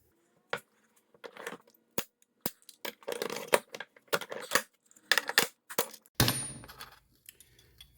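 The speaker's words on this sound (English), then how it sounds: "So I just made up a tool so I could push the bushings through." Bronze hub bushings are pushed out with a homemade tool in a workshop: a series of sharp, separate metallic clicks, knocks and scrapes with irregular spacing and short pauses, ending in a louder grinding scrape.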